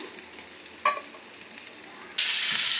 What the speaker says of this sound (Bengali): লাল লাল করে ভেজে নিচ্ছি একটু।